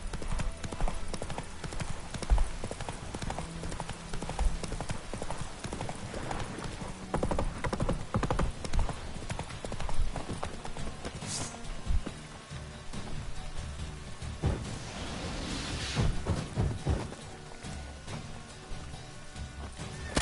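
Hooves of the horse Roach clip-clop continuously under a dense, busy game soundscape of wind and ambient clatter, with occasional louder thuds; a brief whinny-like sound and faint voice appear in places.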